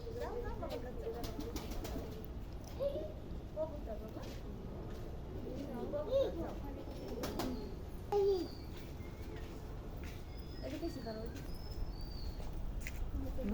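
Soft pigeon coos surface now and then beneath a child babbling and an adult talking at a park zoo, with steady background hum throughout.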